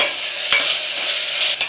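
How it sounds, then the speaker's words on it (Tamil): Tomato rice masala sautéing in a pan until its raw smell is gone, a steady close sizzle with a couple of sharp spoon-stirring scrapes, no voices. "இந்த ரா ஸ்மெல் போகிற வரைக்கும் நல்லா வதக்கியாச்சு"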